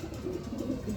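Grizzle pigeons cooing close by in a loft, a soft continuous low burbling coo without pause through the second, with no talk.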